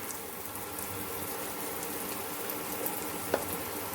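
Masala with coriander powder sautéing in a pan for Rajasthani dal, a steady, faint sizzle and crackle throughout with one brief clink of a spoon near the end.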